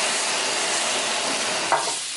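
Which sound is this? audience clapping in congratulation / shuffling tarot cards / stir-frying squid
stir-frying squid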